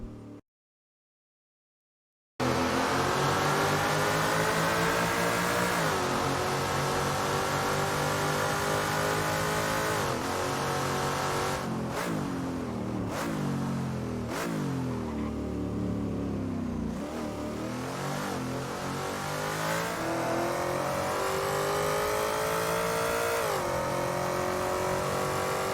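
Hummer rally car mod engine revving in the Assetto Corsa racing game, a loud, steady, harmonic drone whose pitch climbs and falls through repeated gear changes, running continuously after a short silent gap.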